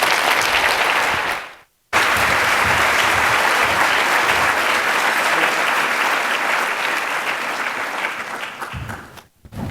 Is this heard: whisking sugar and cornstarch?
no